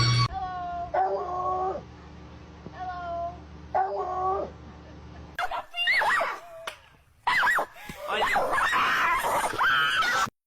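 A Chihuahua whimpers and whines in a high, wavering pitch, then gives sharp yappy barks and squeals, close and loud, with a person's voice briefly mixed in.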